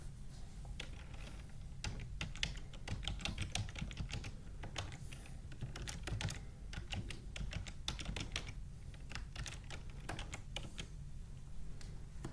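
Close, steady typing of JavaScript code on a computer keyboard, quick irregular key clicks running continuously without a break.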